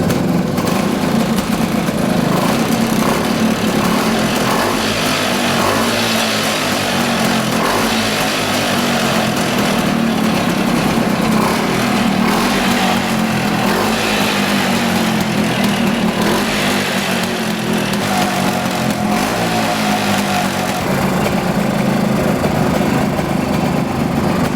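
A Puch 250 S4 two-stroke 250 cc motorcycle engine runs steadily and loudly for the whole stretch, a continuous buzzing drone with no voices.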